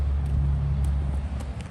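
Outdoors in a dry landscape, road traffic gives a constant low rumble with occasional brief swells as vehicles pass. It is fairly loud and continuous, with no talking.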